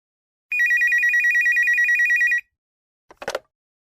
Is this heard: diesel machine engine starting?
no